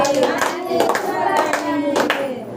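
A group claps in steady rhythm along with a sung group song, the sharp claps landing about every half second over the melody.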